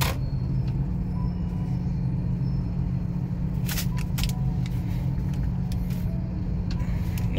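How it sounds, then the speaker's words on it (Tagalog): A car pulls in to park, its engine a steady, close low rumble throughout, with a few faint clicks and rattles on top. "parking na tayo dito"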